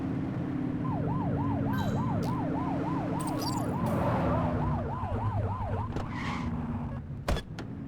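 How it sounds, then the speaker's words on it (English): A wailing police-style siren in the video game The Precinct cycles rapidly up and down over a steady engine drone, with a few clicks and a sharp knock near the end. "Get behind them and blip the siren to make them pull over."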